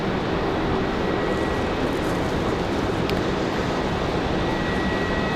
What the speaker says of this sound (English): Got another United coming in, but looks like Republic Airways 9910 from Richmond.